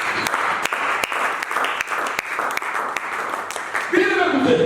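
A church congregation at a French-language worship service bursts into sustained, dense applause with sharp individual claps cutting through, while a voice rises over the clapping near the end.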